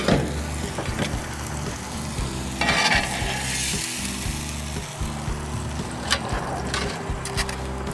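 A tri-tip steak sears on a hot Blackstone flat-top griddle, giving a loud, continuous sizzle and hiss with a few sharper spatters and scraping bursts, close up and with no voices.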